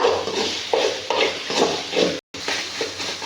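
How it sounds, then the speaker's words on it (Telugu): Chopped tomatoes frying in a pan while being stirred and mashed with a utensil, steady close sizzle under repeated scraping strokes against the pan, with a brief break partway through. "ఇప్పుడు మనం సన్నగా తరుపుకున్న టమాటాలు వేసుకుంటున్నాం"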